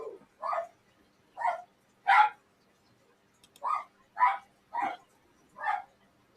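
A dog barks in the background, angry, in about eight separate short barks spread irregularly across the stretch with quiet gaps between them, moderately distant and alone with no talk over them.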